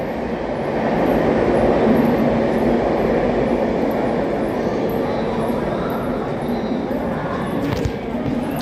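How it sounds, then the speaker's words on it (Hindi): Dibrugarh Rajdhani Express rumbling past during an overtake of a Magadh Express, a loud, steady roar of passing rail cars and wheels that holds for the whole stretch with a brief squeal near the end. "वहाँ पर निकल रही है डिब्रूगढ़ राजधानी और यहाँ लगी हुई है अपनी मगध एक्सप्रेस।"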